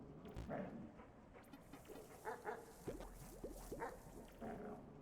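A dog barking and whimpering in the video game Animal Well, a run of short yelps and whiny chirps in quick bursts, moderately loud, over a soft game backdrop with no talk.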